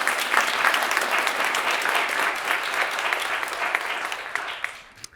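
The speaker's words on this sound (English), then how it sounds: "I'd really like to give Baltimore Center Stage a huge round of applause" Dense, steady applause from a sizable theatre audience at a poetry recitation competition at Baltimore Center Stage fills the space, gradually thinning and tapering off at the end.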